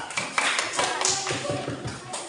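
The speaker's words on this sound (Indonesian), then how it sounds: "Oke, kasih aplaus, tepuk tangan." Group of students clapping hands in a classroom during a lesson, brisk uneven claps from several people close by, with voices talking over them.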